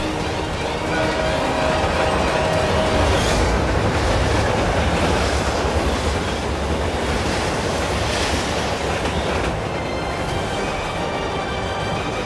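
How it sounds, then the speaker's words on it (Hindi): A train approaches on the rails with a continuous, loud rumbling roar and airy rushing noise that stays steady throughout, with no voices over it. "ट्रेन अपनी तरफ आ रही है।"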